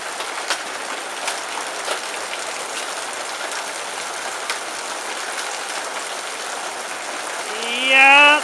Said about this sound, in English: Yeah, that's hail.